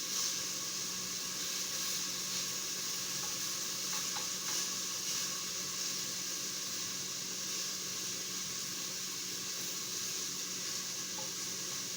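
Chicken sizzling steadily in a frying pan for a Swiss carbonara chicken and mushroom dish, a constant close frying hiss with faint stirring scrapes and no talk.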